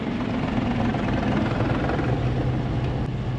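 A Jeep's clutch throwout bearing spins with a steady, close whirring drone that holds level over a constant engine rumble, and no one talks.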